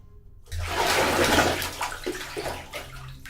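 After a brief silent moment, bathwater sloshes and splashes in a tub. A continuous swishing surge is followed by softer ripples and drips, close by and without talk.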